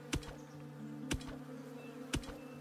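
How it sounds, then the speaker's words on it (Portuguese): Bees buzz steadily in the video game Above Snakes, a continuous drone with three sharp knocks spaced about a second apart, with no talking. "abelhas."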